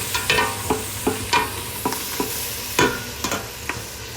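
Onions and vegetable curry stirred in a hot frying pan for pumpkin soup, a steady close sizzle punctuated by repeated scraping clacks of the spoon against the pan.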